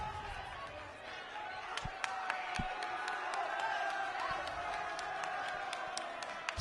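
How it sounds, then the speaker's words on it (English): A student section applauds and cheers a called foul during a girls' high school playoff basketball game in a gym, crowd noise under sharp sneaker squeaks and scattered bangs, with a few thuds throughout. "Student section applauding that they actually have a foul."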